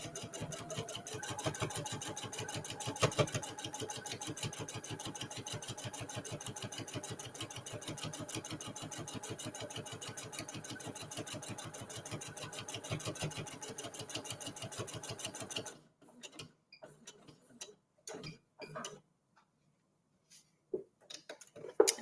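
A sewing machine quilting straight lines on a fabric table runner runs in a fast, even mechanical rhythm for about fifteen seconds, then stops, leaving faint handling noises and short bursts of stitching.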